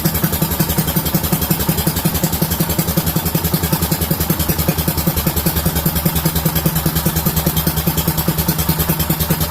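A small engine on its first start-up after a new carburetor goes in idles loud and close, a fast even chugging pulse with mechanical clatter that runs the whole time with no talk.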